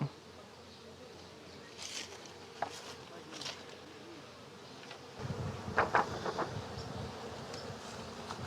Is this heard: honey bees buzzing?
yes